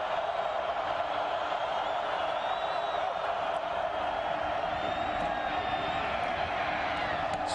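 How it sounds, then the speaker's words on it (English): A football stadium crowd at the 2005 Colorado versus Missouri college game swells into a loud, steady roar that fills the entire stretch without a break. "Crowd getting noisy again."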